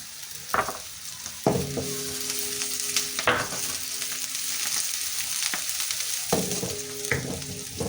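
Chopped medium onion hitting hot oil with bitter gourd, loud sizzling and frying with repeated bursts as pieces are stirred and tossed, close and steady, no voices.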